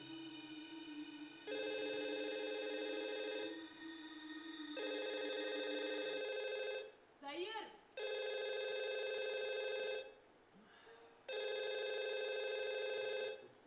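A telephone rings unanswered in a poetic drama, its loud electronic ring repeating in long, evenly spaced bursts with short gaps, while a voice briefly calls out midway.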